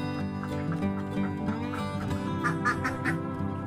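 Ducks on a laying-duck farm quack and honk continuously in a dense flock, many overlapping calls filling the air at moderate level, with no talk.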